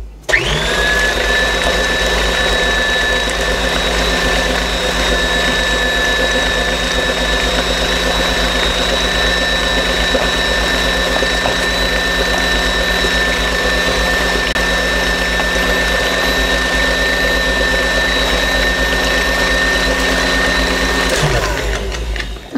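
An electric mixer whips cold heavy cream for vanilla mousse, a loud, steady whine that holds for about twenty seconds before spinning down and stopping.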